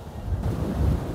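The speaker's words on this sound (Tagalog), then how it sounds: "Lakas ng hangin." Strong wind buffets a microphone on a motorbike long ride from Cavite to Ilocos Norte, a steady loud roar that rushes continuously throughout.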